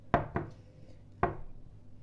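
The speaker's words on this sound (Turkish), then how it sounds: "Öncelikle bütün malzemelerimizi doğrayarak yemeğimize başlıyoruz." A knife chops ingredients for forest kebab, such as carrots, tomatoes, peas and garlic, on a board with three sharp close thuds, two quick ones then a pause before a third, with no talk.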